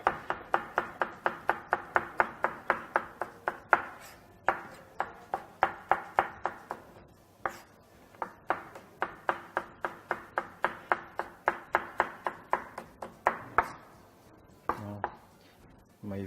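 A knife chops red peppers into julienne strips on a cutting board, a fast, steady run of close crisp taps with brief pauses between bursts, no voices.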